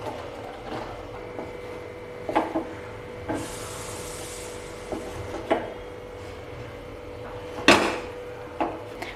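Spoon stirring a peanut mixture in a pan while making mandvi pak, a peanut sweet, giving soft scraping with sharper clinks at irregular intervals and a brief rushing hiss midway, with no talking.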